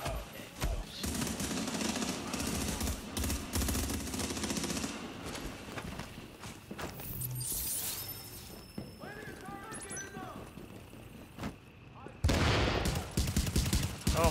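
Gunfire rattles in The Division's Dark Zone, dense bursts of shots with a shattering impact and scattered game effects, loud and continuous across most of the span before a short lull and a final burst.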